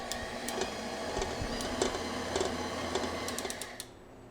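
A stand mixer runs briefly on tart dough, giving a steady mechanical whir with faint rhythmic ticking and clatter, then switches off after about four seconds.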